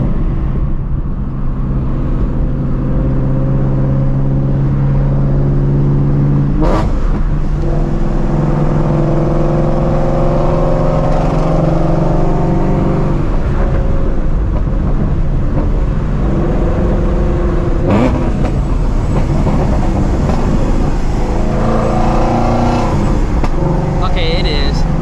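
Procharged Shelby GT350 running open headers, its supercharged engine droning loud and steady with swelling revs and a whine, continuous and close, with voices talking over it.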